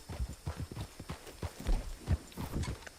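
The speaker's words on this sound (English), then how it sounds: "Calling my horse in, if my horse will come in" A horse's hooves clip-clop in a steady, uneven walking rhythm as it comes in, the low thuds fairly close and continuing throughout with no voices.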